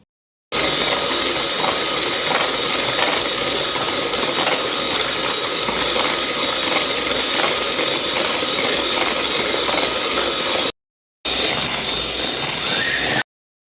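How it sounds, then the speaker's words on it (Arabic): Electric mixer whirring continuously as eggs, sugar and oil are beaten for a vanilla cake batter, a loud steady mechanical drone close up, briefly cut off near the end. "فضلنا نضرب لحد ما الخليط بقى لونه فاتح بالشكل ده"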